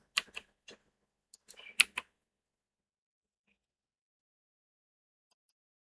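A computer keyboard gets a handful of quick, close key clicks over about two seconds, followed by near silence.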